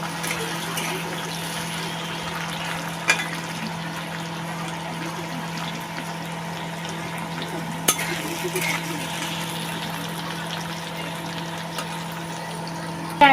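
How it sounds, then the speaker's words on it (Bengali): Potatoes browning in a pan for a home-style meat, soybean and potato curry give a steady, soft sizzle throughout, with occasional light scrapes and clinks of a spoon stirring. "একটু আলুটা আমি লাল লাল করে ভেজে এই মশলাটা এর মধ্যে দেবো।"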